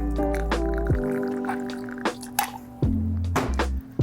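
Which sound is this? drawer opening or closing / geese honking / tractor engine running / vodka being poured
vodka being poured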